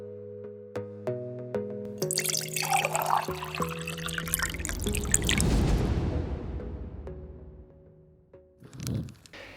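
Seawater pours and trickles into an Aqua One ReefSys 255 aquarium sump, a broad rushing swell that builds and then tapers off, with steady tonal hum and a few clicks alongside and no talking.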